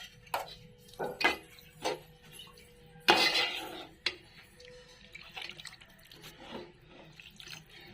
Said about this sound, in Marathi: पाणी ओतले आता थोडंसं आपण ग्रेव्हीसाठी.